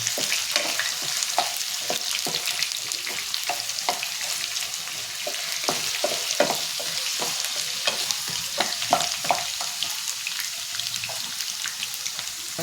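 Steady sizzle of potatoes frying in a pan, with repeated scraping and stirring clicks from a utensil, continuous throughout, no voices.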